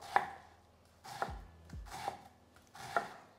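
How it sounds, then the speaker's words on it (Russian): A knife chops onion finely for a mirepoix on a cutting board, four crisp, evenly spaced strikes close by with short pauses between them and no talking. "Режем тонкий мирпоя."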